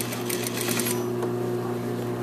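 A sewing machine edge stitches the hem lining of a jacket, giving a steady, fast mechanical whir with rapid needle clatter throughout, close and continuous.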